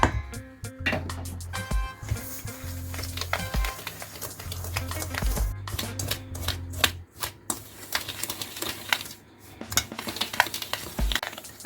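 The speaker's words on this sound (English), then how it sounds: "Now get ready to mix our dry ingredients." Dry ingredients for cornbread, including salt, being stirred together in a bowl: continuous scraping and clinking of a utensil against the dish with irregular taps, close and moderate in loudness.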